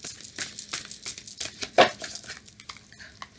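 Oracle cards from a Spirit Animal Oracle deck being shuffled by hand: rapid, crisp papery riffles and flicks close to the microphone, uneven in rhythm and continuing for a few seconds with no voices.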